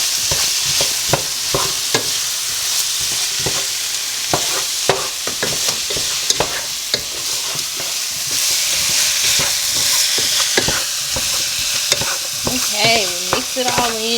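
Vegetable soup ingredients are stirred in a pot with a spoon, giving repeated scraping clinks and soft sloshing under a steady sizzle, close and fairly loud, with a brief voice near the end.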